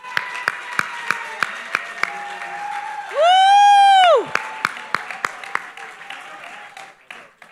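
At the Caribbean Global Awards 2023 ceremony, an audience claps in a steady, evenly spaced rhythm. Midway, a loud, sustained whooping cheer rises over the claps before the clapping carries on alone.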